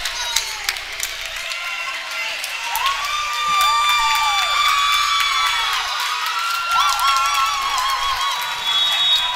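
A volleyball crowd at the Eagles' Senior Night game against Florida College cheers and shouts steadily, with whoops and whistles rising over a sustained roar in a gym.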